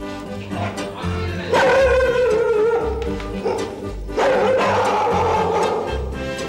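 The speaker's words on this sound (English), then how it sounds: "a bow-wow chowkidar signals his presence" Several dogs around a construction site bark and whine in yelping bursts, with two longer, loud stretches of drawn-out, wavering calls over a busy background.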